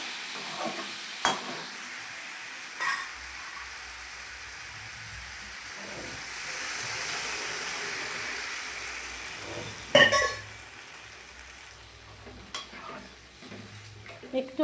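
Pumpkin curry going into a pan to cook and being stirred, with a soft low sizzle and scattered clinks of a utensil against the pan, fairly quiet and close.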